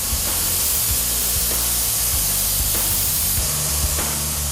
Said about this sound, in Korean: 넓은 면 대부분은 에어스프레이 건을 사용한다